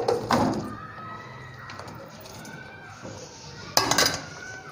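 Fried chicken is stirred into sauce in a pan while making restaurant-style Chicken 65, with clinking utensil scrapes against the pan at the start and again near the end over a low background hum.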